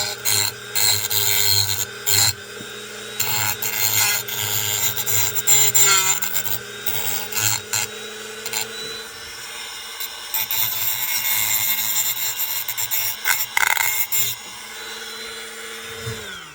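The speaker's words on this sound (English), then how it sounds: "that sandpaper I'm using over there is too coarse" Coarse sandpaper rasping steadily against a ratchet driver part, close and continuous abrasive scrubbing with brief pauses, a faint tonal hum running underneath.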